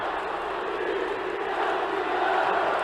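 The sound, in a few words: Vasco supporters chanting at Maracanã stadium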